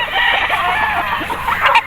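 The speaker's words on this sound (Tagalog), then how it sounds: "At ang mga manok nila dito" A dense chorus of gamefowl chickens and roosters on a game farm in Bulacan, Philippines, crowing and clucking together, steady and fairly loud, with no voices.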